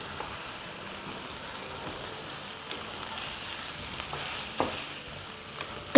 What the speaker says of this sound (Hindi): कीमा और आलूओं को इतना भूनेंगे कि कीमे का कलर चेंज हो जाए